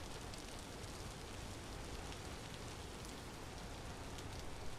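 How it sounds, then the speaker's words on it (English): Steady rainfall in the survival video game Vintage Story, an even, continuous hiss of drops on surfaces at moderate level, with no voices. "it started to rain and my visibility went down a bit"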